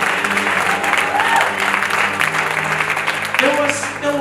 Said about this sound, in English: Come on, clap hands for Jesus.